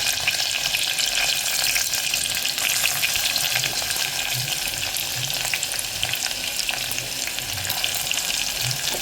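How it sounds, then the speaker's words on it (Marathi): Finely chopped onion sizzles in hot oil, with a bit of coriander, for a cashew vegetable curry, a continuous bright frying hiss with occasional soft stirring scrapes, close and steady throughout with no voices. "आता हा कांदा आपल्याला छान असा परतून घ्यायचा आहे।"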